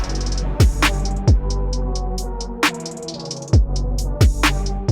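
A trap-style beat made in BeatMaker 3, with rapid, tightly rolled hi-hats ticking over booming bass kicks, loud and close, no voices.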